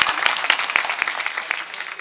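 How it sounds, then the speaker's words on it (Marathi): An audience claps at a kirtan, dense rapid applause from a crowd, loud and close, without a break. "ह्यांच्यासाठी एकदा जोरात टाळ्या वाजवा."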